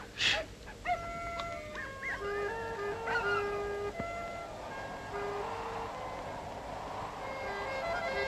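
Several dogs howl and whimper at night in a long, overlapping chorus of rising and falling wails, with a sharp yip near the start, heard from a moderate distance over a quiet background.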